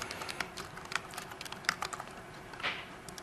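Quick irregular keystrokes on a computer keyboard while entering code at a Windows development demo, close and crisp with a few louder clacks, no talk.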